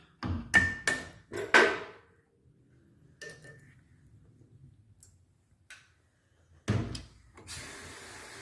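Valve keepers popped out of a 2004 Subaru cylinder head, a quick run of four sharp metallic tool strikes, then scattered faint clicks and light taps, and two more hard knocks close by near the end.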